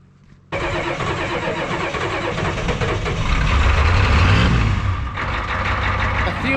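A diesel engine on a railroad maintenance machine turns over and starts after a jump with jumper cables, then runs loud and rough, its low rumble swelling steadily close by.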